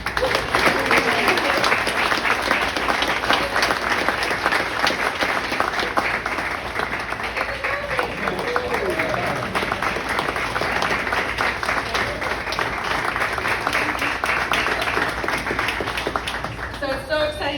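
An audience applauds an award for Fisheries Biologist of the Year for the Midwest, with loud, dense, steady clapping that fills the room and carries on without a break.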